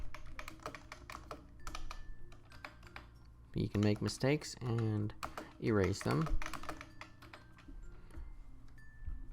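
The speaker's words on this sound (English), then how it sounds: "let's go ahead and start typing our lesson" Rapid clicking of keys on a computer keyboard, steady and close, continuing under a voice speaking in the middle.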